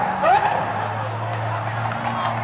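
A Lamborghini SVJ fitted with a Gintani exhaust pulls away with a brief tire squeal and a low, steady engine drone, loud and close.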